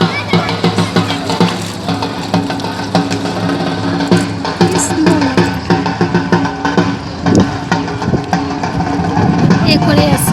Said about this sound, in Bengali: নৌকাটা এসে ঘাটে থামলো